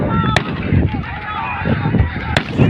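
Two sharp gunshot cracks ring out about two seconds apart over loud, chaotic crowd noise and shouting during stone-throwing clashes in Bahria Town, Sindh.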